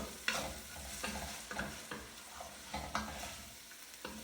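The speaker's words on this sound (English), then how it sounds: "we're going to let it cook for a minute or so and add the ground turkey" Ground turkey cooks in a pan with persillade for stuffed vegetables. A low sizzle runs underneath, broken by a spatula scraping and tapping at a fairly regular pace.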